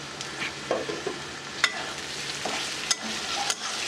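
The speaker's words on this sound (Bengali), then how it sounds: "আলু পেঁয়াজের সাথে নেড়ে নেড়ে মিশিয়ে নিব।" Potatoes and onions coated in spice mix are stirred in a pan for a potato-capsicum fry, producing repeated spatula scrapes and knocks over a soft, continuous frying hiss, close by and without speech.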